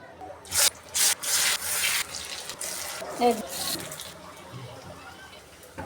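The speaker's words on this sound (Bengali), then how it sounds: "এখন আমি এই পাতাকপির বড়াগুলো দিয়ে দেব।" Cabbage pakoras drop into hot oil and sizzle, with a few loud hissing bursts at first that settle into a softer, steady crackle close by.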